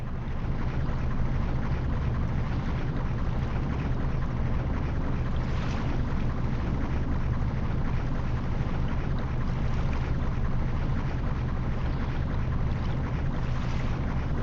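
A ship's thrusters churn in Professional Ship Simulator, pushed to port with a touch of throttle, a steady low rumble and broad wash of water and engine noise running unbroken throughout.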